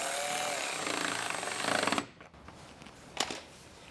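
A power tool drives a 10mm bolt back into the trim of a 2022-or-later Toyota Tundra, a close, buzzing rattle lasting about two seconds before cutting out, followed by a brief clunk.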